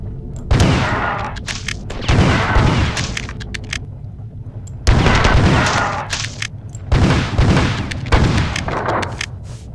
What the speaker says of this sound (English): shooting at a guy at long range